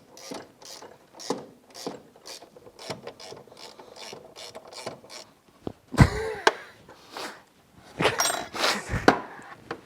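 Wrench tightening bolts and nuts on a Kawasaki Mule battery bracket, a quick run of close, sharp ratcheting clicks in short bursts, followed by louder clanks and rattling metal knocks.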